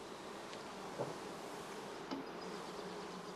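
Honey bees buzz steadily around a straw skep hive, a soft continuous droning hum with a few individual bees passing close by.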